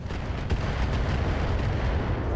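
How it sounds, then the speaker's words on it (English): Battlemech weapons fire in the RogueTech mod of BattleTech, a continuous heavy rumbling barrage of booming low thuds with a sharper crack near the start, loud and steady throughout. "This archer is going to fire on our crossbow."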